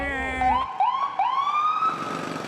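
Several ambulance siren wails sweep upward one after another over a steady low rumble, loud and fairly close.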